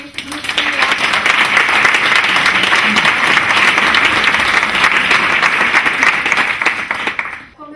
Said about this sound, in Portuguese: pedíamos também uma salva de palmas para este grupo